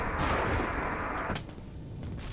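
Rocket striking a player in a Quake-style arena team deathmatch game: a loud, roaring blast of noise with a sharp impact crack partway through that then fades.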